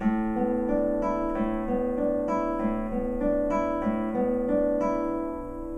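A plucked nylon-string classical guitar rolls through a chord one note at a time in Carulli's Prelude in A, the low bass note and higher strings ringing in a steady, repeating pattern.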